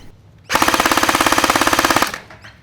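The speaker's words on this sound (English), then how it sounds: "now let's check the rate of fire on an 11 volt battery" APS AK-74U gel blaster with a real wood build firing full auto on an 11 volt battery: a loud, rapid, evenly spaced mechanical rattle of shots lasting about a second and a half, then stopping abruptly.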